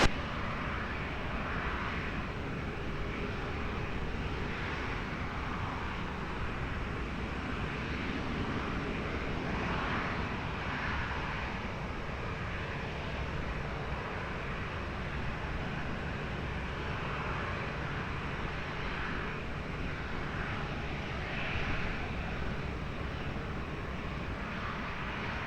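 Aircraft engines running at Lisbon Airport near runway 20, a steady moderate jet roar and hiss sustained throughout with faint swells, heard from some distance with no voices.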